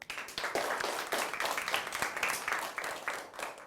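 A classroom of students clapping for a classmate after a Malay language group presentation, a short burst of quick, uneven hand claps, moderately loud and close, without talk over it.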